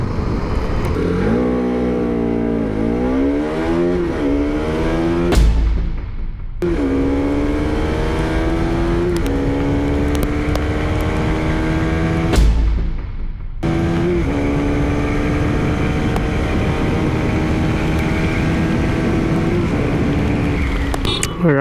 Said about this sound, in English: We're riding India's 200cc sport tourer, the Pulsar Rs200.